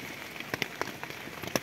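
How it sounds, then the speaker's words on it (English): Rain falls on tents at a woodland campsite in spring, heard as a soft, scattered patter of separate drops tapping close by over a faint background hiss. "I just wanted to show you the outside, how it's raining."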